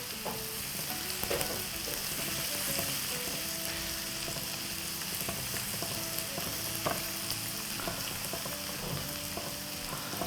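Chopped fermented black beans stir-fried with ginger, scallion and garlic in a wok, a constant close sizzle with repeated spatula scrapes and soft clanks throughout.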